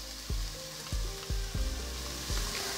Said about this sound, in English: After you saute that mixture for 2 to 3 minutes or until everything starts to wilt